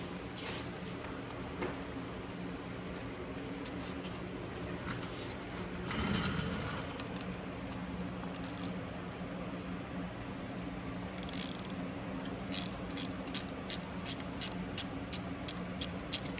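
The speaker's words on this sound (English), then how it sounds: "So I'm gonna go ahead and remove these bolts right now. Like I said, they're just 8mm, so my 8mm socket." An 8mm socket on a ratchet loosens intake bolts on a Venom Sportster 250cc chopper. The work starts as quiet fiddling and then turns into a run of quick, evenly spaced ratchet clicks near the end, with no speech.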